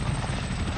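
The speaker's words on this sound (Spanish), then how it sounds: "¿Quién ha llamado al helicóptero?" A helicopter in the battle royale game PUBG gives off a dense, steady rotor rumble with a thrumming low-end beat, loud and continuous through a very short moment.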